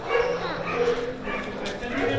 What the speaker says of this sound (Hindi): ओहो कुत्ते कितना भौंक रहे।